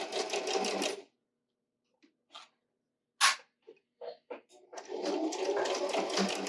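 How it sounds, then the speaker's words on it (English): A sewing machine stitches across a fabric face mask in fast, dense whirring bursts, starting and stopping, with short clicks and handling noises in the quiet gap between runs. "And then I'm going to sew across."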